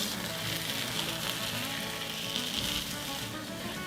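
Refried beans frying in oil in a pan, a dense continuous crackling sizzle, close and steady, with no talking.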